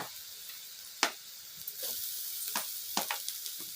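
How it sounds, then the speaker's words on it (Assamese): Ginger dropped into hot oil already frying onion and garlic for a dry fish chutney, giving a low steady sizzle punctuated by several sharp crackles and stirring clicks over a few seconds. "এয়া মই আদা দিছোঁ।"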